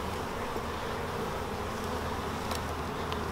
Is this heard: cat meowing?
no